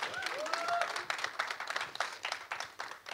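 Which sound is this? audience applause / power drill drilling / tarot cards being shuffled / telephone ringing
audience applause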